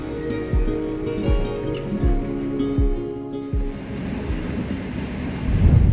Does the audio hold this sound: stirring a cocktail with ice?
no